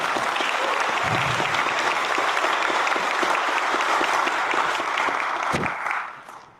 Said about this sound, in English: could I get another round of applause just for these two?